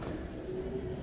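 A racing pigeon gives a low, soft coo, close and steady over a murky background hum, one short continuous call.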